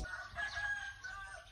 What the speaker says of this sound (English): Le coq.